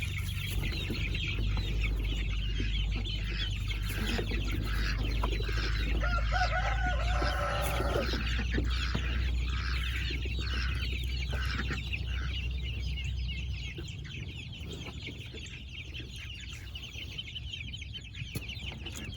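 Chickens cluck continuously, close by and fairly loud, with a rooster crowing now and then, among chicks and ducks on a farm, over a low steady rumble that fades partway through.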